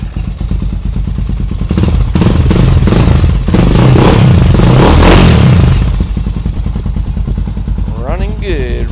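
A Honda 400EX ATV engine runs close by, idling with a rough clatter and then rising into a loud rev before settling back down, with a voice heard near the end.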